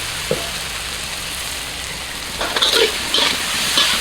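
Food stir-frying in a pan while spring rolls are made, giving a constant frying hiss with short bursts of scraping and clatter from stirring toward the end.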